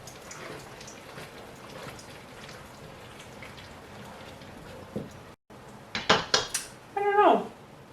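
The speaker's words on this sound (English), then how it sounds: "Mix it through there." A spoon stirs and mixes food in a dish in a home kitchen, with soft continuous scraping followed by a few sharper, louder clinks and clatters near the end, close by and without talk.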